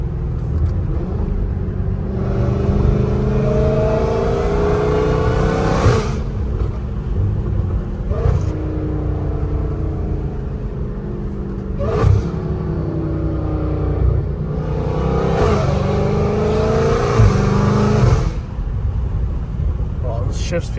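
A straight-piped Dodge Challenger Hellcat Redeye revs hard through several gears, each pull rising in a loud, raspy roar before a shift drops the pitch, with a deep rumble throughout.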